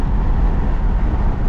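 A 1974 Ford Gran Torino Elite cruises on the road at speed, its engine and tyre rumble a loud, steady low drone heard from inside with no talk.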